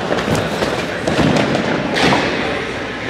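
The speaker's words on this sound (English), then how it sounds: "I'm tumbling on the tumble track." Thuds of tumbling on a tumble track ring out as a series of muffled, irregular impacts close by, with faint background voices in a gym setting.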